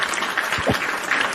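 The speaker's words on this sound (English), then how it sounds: "Joining us on the show, Evil Dose. Round of applause." A live audience claps in a brief, steady round of applause to welcome a guest onto a wrestling talk show, the sound dense and continuous with no clear breaks.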